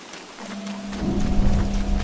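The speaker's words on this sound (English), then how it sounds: "And more rain." Rain in the video game Don't Starve, a soft, steady wash of falling rain that swells slightly louder partway through, with a low rumbling undertone and a faint sustained hum.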